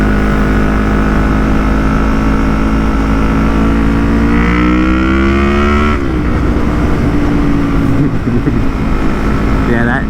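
A Yamaha MT-03 motorcycle with a full Akrapovic exhaust rides along, its engine droning loud and close, rising in pitch through the gears with brief dips at the shifts, under constant wind rush.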